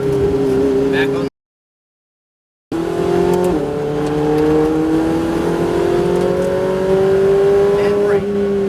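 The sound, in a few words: Ferrari 488 Challenge race car accelerating on track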